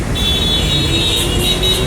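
Heavy traffic at a rain-soaked intersection in Ayala, with a steady low engine rumble and wet road hiss, a sustained high tone, and faint horn-like toots near the end, continuous and fairly loud.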